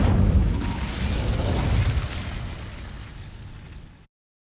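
A fire spell called Incendio cast in Hogwarts Legacy erupts as a loud, close burst that sustains a roaring rumble for about two seconds, then fades steadily toward silence.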